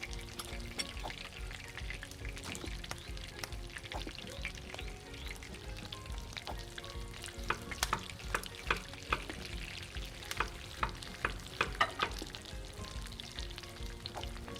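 French fries frying in hot oil in a kebab restaurant simulator game: a steady, dense crackling sizzle that runs the whole time, with scattered small pops and clinks on top.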